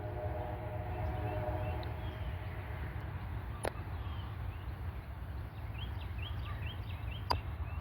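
A short freight train rumbles past in a low, steady roar, with a horn sounding early on and faint clanks and squeals later.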